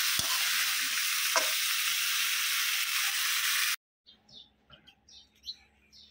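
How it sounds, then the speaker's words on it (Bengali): Fish frying in a pan in a home kitchen, a loud continuous sizzle with a couple of sharp pops that cuts off abruptly, followed by quiet room sound with faint bird chirps. "এই মাছটা কষায়া তারপরে ডাটাটা দিয়ে দিব প্রথম"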